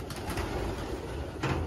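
Young racing pigeons cooing inside a test loft, soft overlapping coos close by with no talk.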